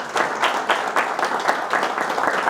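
An audience at a thank-you and farewell ceremony gives steady applause, many hands clapping in a dense, rhythmic stream with no speech over it.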